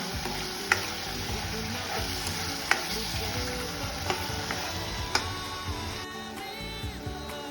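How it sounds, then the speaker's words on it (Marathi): An onion-tomato masala paste for egg curry sizzles and fries steadily in a pan, with a few sharp clicks of a spoon or spatula tapping the rim at intervals. "सगळं पेस्ट आता थोडा पकू द्यायचं चांगलं"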